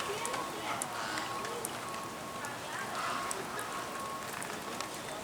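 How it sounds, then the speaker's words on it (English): Rain falls on the garden paths and ponds of Sarasota Jungle Gardens, Florida, a steady close patter with scattered sharper drops over a constant hiss. "And the rain is letting up."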